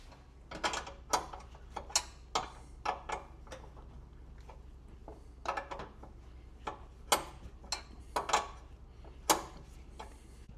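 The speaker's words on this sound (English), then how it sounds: "Now we're just going to go through and tighten it all down" A ratchet tightens the inner fender brace bolts on a Subaru WRX, producing bursts of quick clicking pawl ticks in uneven clusters, close and clear over a low background hum.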